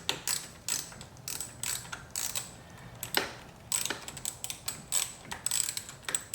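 Rapid ratchet clicks in uneven bursts from a wrench backing out a 10mm bolt on a C8 Corvette steering wheel, close and distinct, with no talking.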